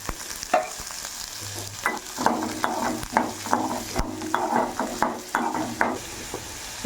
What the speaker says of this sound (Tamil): கொஞ்சம் எண்ணெய் ஊற்றி நல்லா வணக்கிங்க